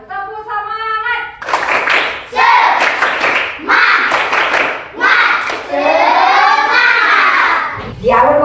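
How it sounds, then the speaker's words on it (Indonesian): A group does the 'tepuk semangat' spirit clap at the start of a Christian religious education class. Several rhythmic bursts of loud clapping are mixed with voices chanting and shouting along, after a short tonal sound at the start. "Kita tepuk semangat."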